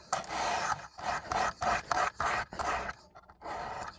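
A knife blade is stroked across the stone of a Precision Adjust sharpener, giving a close, rhythmic rasping grind in repeated back-and-forth passes with short gaps between strokes.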